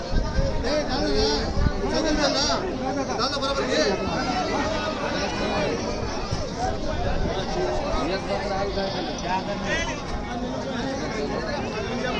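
Goats bleat repeatedly through a dense, continuous backdrop of crowd chatter and voices at a goat and sheep market in Murud, Latur.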